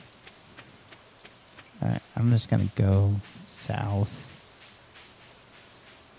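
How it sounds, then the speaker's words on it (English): Soft, steady rainfall hisses in the background of the farming game Stardew Valley, faint and continuous beneath someone talking. "So we're going to walk in the rain, see who we can find."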